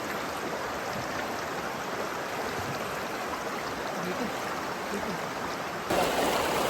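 A river in Sibuyan, Romblon flows in a steady, close, full wash of rushing water that runs unbroken through the whole stretch and swells slightly louder near the end, heard on its own without talk.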